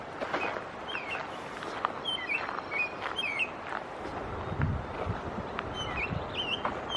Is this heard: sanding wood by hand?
no